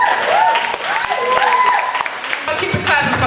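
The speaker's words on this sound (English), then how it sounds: "Keep it clapping for Carly." Audience at a university homecoming poetry show claps loudly and continuously, with whoops and cheers mixed in and voices talking over the applause.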